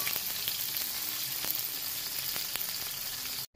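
Coated chicken pieces sizzle and fry in a hot pan, a steady dense crackle throughout with a few brief stirring sounds, close and alone, cutting out briefly near the end.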